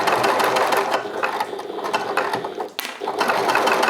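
A sewing machine stitches a bag corner closed, its fast mechanical whirring loud and close, running steadily with a brief dip before resuming.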